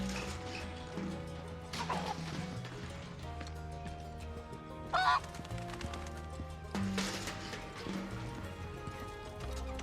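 A rescued chicken in Final Fantasy VII gives a couple of brief, sharp squawks midway through, standing out against a steady bed of game music and clopping hooves.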